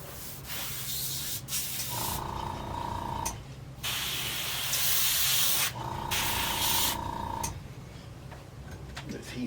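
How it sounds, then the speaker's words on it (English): Spray painting a custom saltwater popper fishing lure, with several short airbrush hissing bursts of a second or two broken by brief pauses, close and fairly soft. "let's go ahead and spray this"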